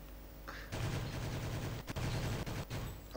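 Gunfire in a video game, rapid automatic shots rattling in a sustained burst with a few brief breaks, fairly quiet overall and with no talking over it.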